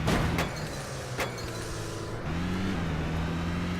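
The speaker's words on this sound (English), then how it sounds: "That's an interesting engine noise." A video game car engine hums steadily with a low, shifting drone, its pitch stepping up and down as if changing speed, with a couple of brief clicks near the start.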